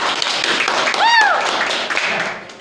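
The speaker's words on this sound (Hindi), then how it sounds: "एक बार जोरदार तालियां हो" Audience at a business plan presentation breaks into dense, sustained applause, loud and close, with a brief rising-and-falling whistle cutting through midway.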